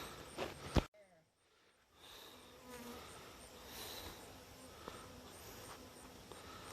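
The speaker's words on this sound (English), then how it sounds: "Every time I reach in there, man, there's a million bees getting me." Bees buzz densely around a hive as someone reaches in, a close, continuous insect drone following a sharp knock and brief breathy sounds near the start.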